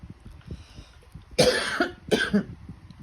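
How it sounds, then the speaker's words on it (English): Two harsh coughs ring out close by, one after another with a short pause between, over a quiet background. "Every time I put a fan on, it makes me cough."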